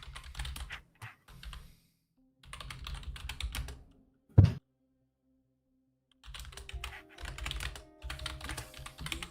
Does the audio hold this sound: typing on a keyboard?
yes